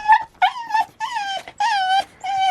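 Kai the dog gives a run of close, loud whimpering whines and yips in several drawn-out, wavering cries broken by short gaps, aboard a sailing boat in Greece.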